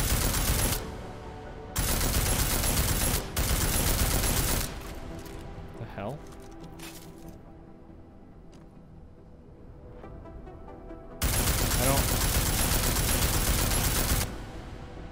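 Automatic gunfire rattles in long, loud sustained bursts at an armored target in the video game Deus Ex: Mankind Divided, broken by brief pauses and a quieter stretch before the shooting resumes.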